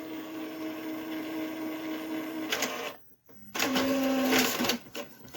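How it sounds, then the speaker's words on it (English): An inkjet-style printer prints photos with whirring, buzzing feed passes and tonal motor hums, a short pause, then another louder mechanical pass close by. "I'm actually printing some photos."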